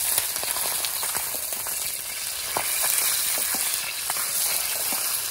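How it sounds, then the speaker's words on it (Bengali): Fish fried crisp on a wood-fired earthen stove gives a continuous, soft sizzle with small crackles and pops, and no one speaking. "দেখো কাঠের উনুনে মাছ ভাজা, মানে একদম কড়া কড়া করে ভাজা হয়ে যাচ্ছে।"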